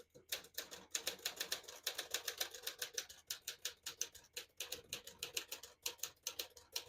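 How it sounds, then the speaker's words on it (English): A 1953 Smith-Corona Silent portable typewriter with a new platen and a red-and-black ribbon types steadily at close range. The quick, crisp keystrikes come in an even rhythm with brief pauses, and no one speaks. "I'll type a sentence in red on the next line and switch from black to red."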